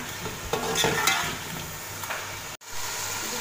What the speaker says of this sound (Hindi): थोड़ा सा फ्राई करेंगे हल्का सा मिक्स करके